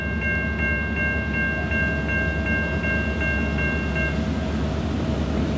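A heavy freight train pulled by five or six GE locomotives, with a Dash 9W leading, works hard and loud up close, its engines roaring steadily while a horn-like tone holds and pulses throughout.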